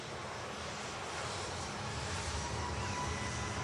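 An Egypt airliner taxis at an airport, its jet engines producing a steady, broad roar that holds level and fairly distant throughout, with no talk.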